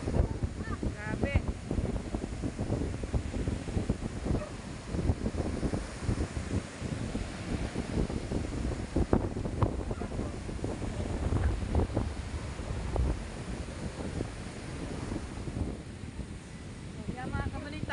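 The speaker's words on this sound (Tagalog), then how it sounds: "Ang hangin po ay habagat dito papuntang Lubang." Habagat monsoon wind blows hard along a seashore, rumbling steadily against the microphone alongside breaking surf, with a voice speaking over it.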